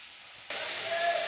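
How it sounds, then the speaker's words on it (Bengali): Water spinach (kalmi shak) frying in a pan: after a quiet moment a sudden steady sizzling hiss jumps in loud and close, holding broad and even to the end. "আর এখানে কলমি শাক ভাজা বসিয়েছি"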